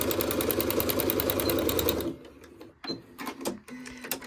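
A sewing machine runs in a fast, even stitching burst for about two seconds while sewing fabric pieces of a heart mug rug, then stops, followed by faint handling clicks and rustles.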